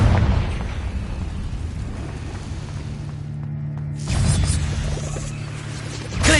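A Confringo fire spell from Hogwarts Legacy bursts in a cave, heard as a steady rumbling blast that cuts out sharply. A second loud boom follows after a short silence, with no talking.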